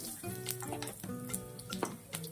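Cumin seeds and a pinch of asafoetida sizzle in hot oil as a tempering for rustic baingan bharta: a steady, close crackling fry with no voices.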